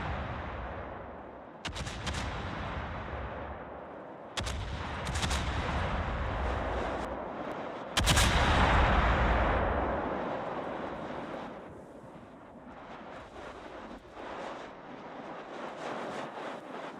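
Heavy naval guns roar in a World of Warships battle: deep booming salvos at roughly 1.7, 4.4 and 8 seconds, each followed by long rumbling decay over a dense, continuous wash of battle noise.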